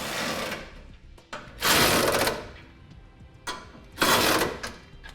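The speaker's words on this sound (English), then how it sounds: "we'll go ahead and secure down all of our 3/4 inch receiver hardware" Power tool or ratchet tightening the 3/4 inch receiver bolts of a Curt trailer hitch on a 2016 Ram 1500, with three loud buzzing bursts separated by short pauses, close and alone.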